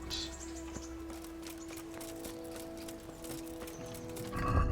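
A horse in a medieval-style video game whinnies and clip-clops, hooves tapping in a steady rhythm beneath a sustained game tone, with a louder rustle at the end and no speech.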